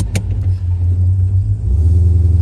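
A numbers-matching factory 1967 Pontiac GTO with a 400 cubic inch engine rumbles loudly and steadily at close range, its deep idle swelling slightly toward the end.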